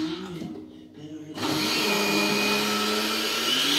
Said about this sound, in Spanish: está ahí con la licuadora